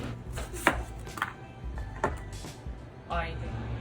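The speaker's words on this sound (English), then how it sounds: "Chop the garlic. Chop the onions." Garlic and onions chopped with a knife on a cutting board: several sharp, close knocks at irregular intervals, with a person talking over them.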